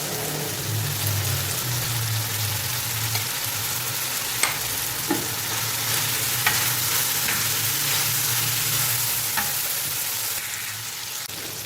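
Tomatoes fry gently over a low flame in a pan for a chicken liver tawa fry, giving a steady, close crackling sizzle with a few soft stirring clicks and no talking.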